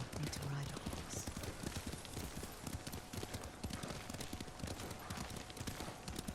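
Horse hooves clip-clopping at a riding pace in the video game Ghost of Tsushima, a brisk repeated rhythm running steadily throughout, fairly quiet, with voices talking over it.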